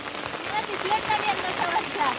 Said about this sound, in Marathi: पाऊस पण थोडा थोडा पडतोय